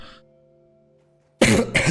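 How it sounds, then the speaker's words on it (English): Two harsh coughs or throat-clears from a man recording a World of Warcraft session, close and loud, breaking a near-silent pause with only a faint low hum beforehand. "Sorry for my occasional coughs"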